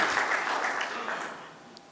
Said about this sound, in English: A good round of applause for all of you for being here.